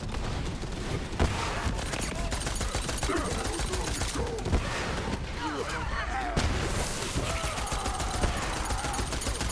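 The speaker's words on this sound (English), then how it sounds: "Everything's exploding." Rapid gunfire and repeated explosions in Borderlands, a dense, continuous fusillade of cracking shots and thudding blasts with game voices and effects mixed over the chaos.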